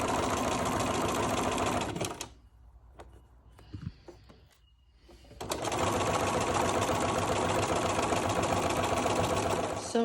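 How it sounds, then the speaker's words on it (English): A sewing machine fitted with a walking foot stitches across the short ends of a toweling table runner, a loud, steady mechanical whir that stops for a few seconds of quiet handling, then starts again and keeps running. "So use your walking foot, 1/2-inch seam. We're going to sew along both ends,"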